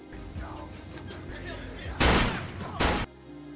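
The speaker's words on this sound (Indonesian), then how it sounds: "Sesampainya di lokasi, salah satu pelaku menembak Tim." Two loud gunshot blasts ring out in a film scene, one at about two seconds and a second shortly after, each a broad sharp burst with a brief tail. Muffled background sound and voices sit underneath before the shots.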